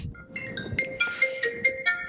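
A mobile phone rings with an incoming call, a bright electronic ringtone melody of repeated rising notes, close and clear with no voices.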